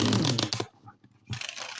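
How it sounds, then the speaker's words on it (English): A tarot deck is shuffled by hand, giving dense riffling card noise up close, a short near-silent gap, then another burst of shuffling. "So let me shuffle this deck and get some reversals going."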